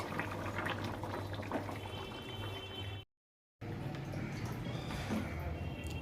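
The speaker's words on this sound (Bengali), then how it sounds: "এই যে খাবার জল এনে ভরতে দিলাম।" Drinking water pours steadily into a container in a home kitchen, giving a continuous gushing, filling sound. The flow breaks off for a short silent gap, then resumes at the same level.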